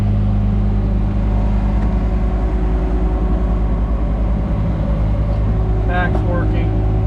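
A 1959 MGA coupe's engine idles while warming up on a cold morning, giving a steady, close, low drone that holds even throughout, with faint voices over it.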